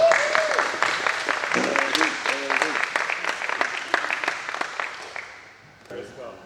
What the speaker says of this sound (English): Let's give Coach Eddie Cerderais a round of applause.